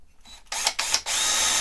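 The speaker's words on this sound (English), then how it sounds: "So go ahead and drill your pilot holes." A drill drilling pilot holes in wood revs in two quick short bursts, then runs steadily, loud and close, with no voices.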